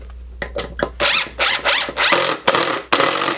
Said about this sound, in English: Now as I screw this in, you can look at this one.